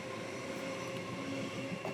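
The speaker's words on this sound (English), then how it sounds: "I've got a train going past." Train rolling past outside an open door, a steady broadband rumble and rail noise that fills the whole stretch at a moderate distance, with no talk over it.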